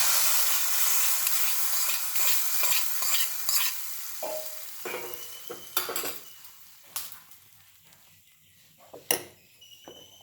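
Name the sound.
tempering spices sizzling for raw banana milk kootu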